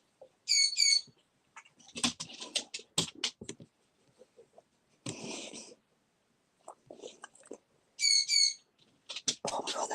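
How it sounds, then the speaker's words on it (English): A bird calls in short bursts of harsh, repeated notes, loud and close, separated by silences and interspersed with clicks, rustling and faint scuffing sounds. "Oh my god, that bird."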